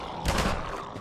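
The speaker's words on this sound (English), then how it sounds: "Shotguns to the face do not help." A single heavy shotgun blast in Half-Life 2, one loud close boom that decays quickly into a short reverberant tail.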